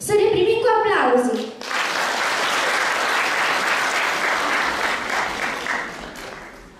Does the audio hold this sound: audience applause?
yes